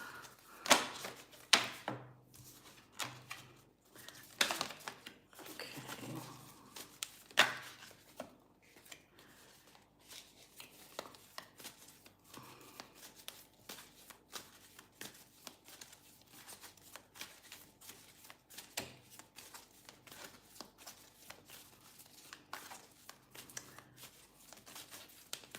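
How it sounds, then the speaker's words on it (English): Tarot cards are shuffled and drawn at close range in a series of crisp riffling bursts and soft slaps, densest early on and then thinning into scattered taps and slides of card stock, with no talking. "let's pull some additional cards for clarification"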